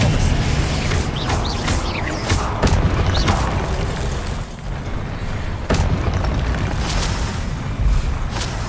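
Spell explosions in the Hogwarts Legacy video game, repeated loud booming blasts and crashes in quick succession amid busy combat noise.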